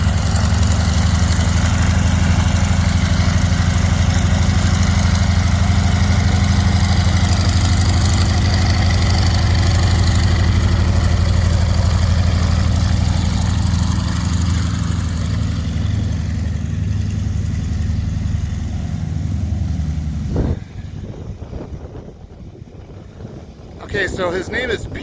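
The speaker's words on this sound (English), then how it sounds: "We'll start with him taxiing out" A crop-dusting airplane near Lebanon, Oregon idles and taxis out, a steady low engine drone with wind buffeting the microphone, then dropping off sharply near the end into gusty wind noise.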